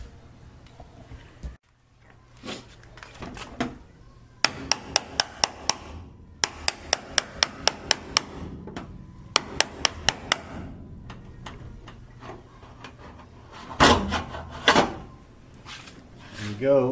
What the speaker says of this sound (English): a couple more bangs with the hammer and it'll come right out